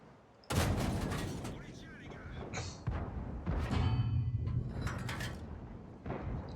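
Tank cannon shots and impacts in World of Tanks, fired at a Panzer IV during a battle: a few loud booming blasts with sharp onsets and metallic thuds between quieter stretches, under occasional voices.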